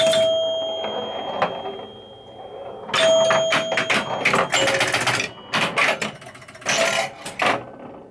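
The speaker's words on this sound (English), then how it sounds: "whenever you hear the dong dong for bell, that's where you're getting runs" Score chimes and bells ring from a 1970 Gottlieb Batter Up baseball pinball machine, loud clustered dings in quick bursts amid mechanical clatter of play, with brief pauses between volleys.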